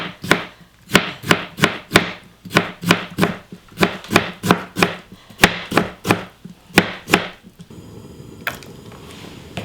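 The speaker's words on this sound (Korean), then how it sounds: "자 잘게 다지면 이렇게 썰으면 되지 뭐 이렇게" Knife finely chopping young radish kimchi on a cutting board in a home kitchen: about twenty quick, crisp, evenly spaced chops, close and loud, ending in a brief softer rustle.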